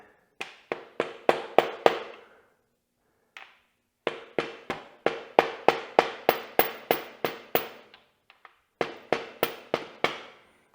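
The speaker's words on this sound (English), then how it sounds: "get this bolt started, and I'm going to tap it lightly on this side" A bolt on a Yamaha YZ250FX dirt bike swingarm is tapped out with a hammer: bursts of sharp, close metallic strikes in quick rhythmic runs, separated by short pauses.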